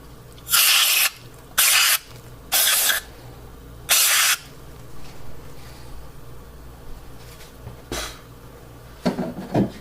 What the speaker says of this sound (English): I have to use brake cleaner to clean out that hole